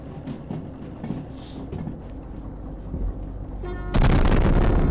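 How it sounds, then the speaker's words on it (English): In the train game Derail Valley, a low rumbling din builds, then a train car suddenly explodes in a loud burst that roars on, close and harsh, with no talking. "And another car exploded."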